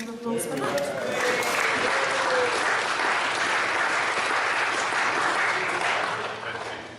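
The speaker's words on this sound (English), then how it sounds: "I think they need a very big round of applause for that." A big, sustained round of applause from an audience at the Court of St George in Lichfield, dense clapping swelling and holding steady for several seconds before tapering off slightly at the end.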